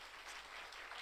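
A church congregation applauds during a Sunday afternoon worship service, a steady, fairly dense clapping that fills the whole second at moderate distance with no voices over it.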